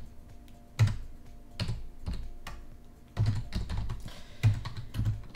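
Fingers typing on a computer keyboard up close, with irregular bursts of quick key clicks separated by short pauses and a faint background hum.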